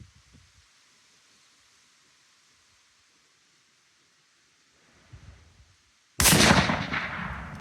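A single rifle shot strikes and bursts a little pumpkin outdoors, one sudden loud crack and blast with a decaying rumble after a quiet stretch of faint rustling.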